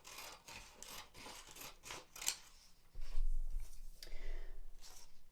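Safety scissors snip through a paper strip in a quick series of crisp, rasping cuts close by, followed by softer rustling and handling of the paper, with no talk.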